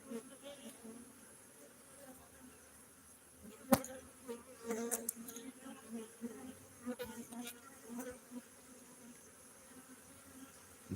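Honeybees buzzing faintly around an open hive with capped honey as frames are inspected, a soft continuous drone with occasional louder passes of individual bees and small clicks of handling.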